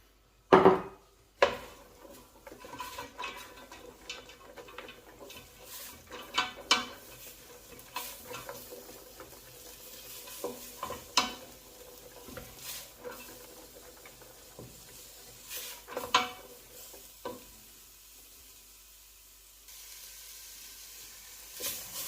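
Garlic and onions sizzle and fry quietly in a pan while a utensil stirs and scrapes them in irregular, near clacks and knocks, over a steady soft hiss with no talking.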